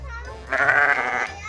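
A sheep at a zoo lets out one short bleat, clear and fairly close, over a low background hum.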